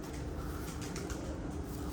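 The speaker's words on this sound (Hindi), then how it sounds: "बड़ा मज़ेदार कबूतर है" Pet pigeon of a breeder's pair cooing softly in a loft, a steady low murmur running throughout without any voices.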